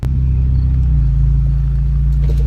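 Audi car engine idling with a deep, steady low rumble close by, ready to street race another Audi, with no voices.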